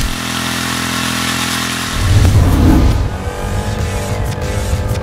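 A small two-stroke scooter engine warming up idles with a buzzy drone, then revs up loudly and settles into a steady, raspy whine close by.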